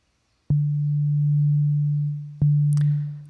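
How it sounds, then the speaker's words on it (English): A saw wave oscillator from Ableton's Wavetable synth holds a steady sustained tone, cut briefly by a short retrigger before sounding again, with a small bright click near the end. "Let's go back to saw wave."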